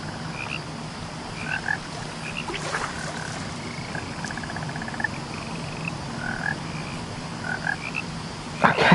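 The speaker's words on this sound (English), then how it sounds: "Oh my god, invisible frogs." Frogs croak steadily through a game world in What Remains of Edith Finch, many short repeated calls layered over a soft ambient bed, with a brief louder bump near the end and no talking.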